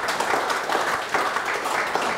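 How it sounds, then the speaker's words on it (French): Audience applause at the close of a lecture talk, a steady dense wash of clapping from a room of listeners, fairly even in level with slight swells, and no voices over it. "Vous pouvez applaudir."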